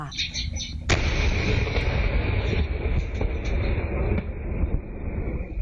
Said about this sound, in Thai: มันเป็นแรงสั่นสะเทือนจากช่วงที่แรงระเบิดนะคะ จากฝั่งกัมพูชา